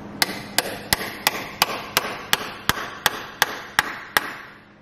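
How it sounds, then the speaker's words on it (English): A press-in -10AN breather fitting is hammered into an RB26 valve cover, giving about a dozen sharp, evenly spaced metallic strikes, close and clear, with no talking. "And we're just simply going to hammer in."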